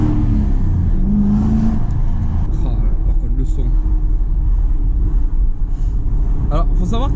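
An Aston Martin V8 Vantage engine rumbles loud and close, rising briefly in a rev, while a person talks over it.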